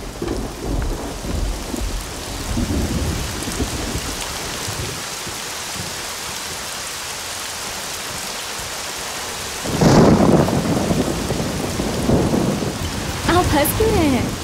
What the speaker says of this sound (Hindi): लेकिन बारिश आ गई।